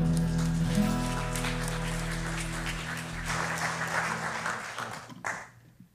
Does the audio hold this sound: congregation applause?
yes